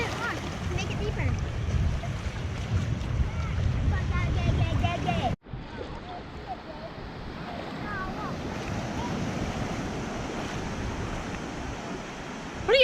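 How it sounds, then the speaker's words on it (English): Ocean surf washes onto the beach at St. Augustine, a steady broad rush under wind noise on the microphone, briefly cut off midway, while children's voices talk and shout nearby. "The waves are carrying all the dirt away."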